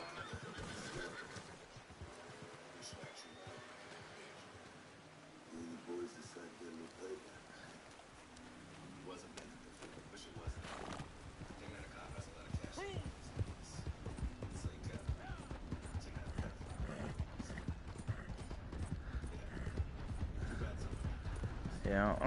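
A horse clip-clops with hooves striking in a steady rhythm and gives a whinny, while people talk nearby and birds coo in the background.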